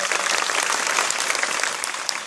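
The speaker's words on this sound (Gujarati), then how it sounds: "આપણે સૌ ફરીથી એકવાર એને તાળીઓથી વધાવી લઈએ" A crowd gathered for an Independence Day speech event gives a dense, loud burst of sustained applause for the student speaker Priyanshi, with many hands clapping close together without a break.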